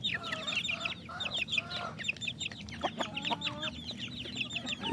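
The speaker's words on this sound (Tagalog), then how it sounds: "Nagbigay lang ako ng kunting feed sa mga native sisiyo natin mga tropa." Native chicks and chickens peck at feed, clucking and peeping close by in a busy, overlapping chorus of short calls over faint background noise.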